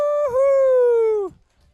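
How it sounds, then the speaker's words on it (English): A dog gives one long, loud, sustained howl lasting over a second, holding a steady tone with a slight dip early on before trailing off into quiet. "Even the dogs are stoked."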